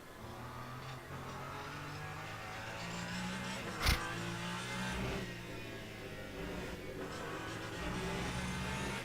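Ferrari hypercar in a sim racing game, Le Mans Ultimate at Spa-Francorchamps, its engine held at full throttle in a steady sustained drone with a brief sharp spike midway.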